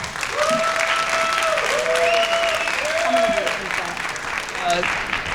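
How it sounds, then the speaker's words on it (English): A crowd at a Drive Responsibly presentation applauds as a speaker is introduced: a sustained wash of clapping with whistles and whoops rising above it throughout. "my friend, Dr. Quinlan, give him a round of applause"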